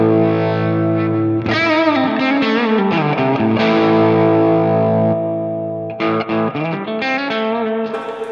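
An electric guitar runs through an AX8 Bassman amp model with the drive block off and input gain at 60%: loud, gritty sustained chords ring out, then a burst of sharp strummed hits follows, with no talking.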